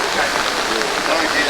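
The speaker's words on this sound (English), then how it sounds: "You can see it's raining" Steady outdoor rain hisses continuously on surfaces at a sign installation beside a bridge, a dense even patter filling the whole moment without letting up.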